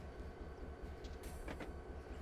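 Train in the Train Simulator 2020 video game being pushed into a short spur at a loading place, a steady rumbling rail drone with rhythmic low thumps and a brief higher clatter, continuous and fairly close.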